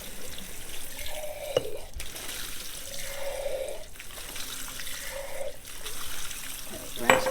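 Tap water runs into a kitchen sink over fresh black beans, a steady close splashing and trickling that swells and ebbs, with brief speech over it.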